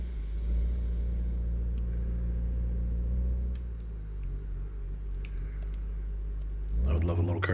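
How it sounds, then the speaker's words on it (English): A small car in the video game My Garage idles with a steady low engine drone and a slight dip in pitch partway, then a brief clunk and rise near the end as it is shifted into reverse. "Start it up. Brakes on, parking brake off. Pop it in reverse"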